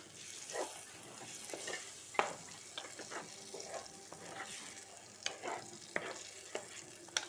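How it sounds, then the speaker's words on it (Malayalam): Coconut-chili masala for a Kerala raw-mango fish curry, stirred in a pan, with a steady soft sizzle under repeated scraping strokes and occasional sharp utensil clicks against the pan. "എന്നിട്ടൊന്ന് ഇളക്കി കൊടുക്കാം."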